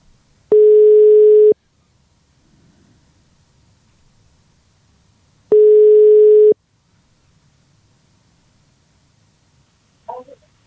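A telephone ringback tone while a call is placed: two identical one-second buzzing tones about five seconds apart, loud and clear over near silence, then a brief faint sound at the end.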